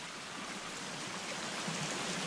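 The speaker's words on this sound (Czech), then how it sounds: "Ty krávo, to je vodopád." Waterfall in the video game The Forest, a faint, steady rushing wash of falling water with no breaks, heard alone without talk.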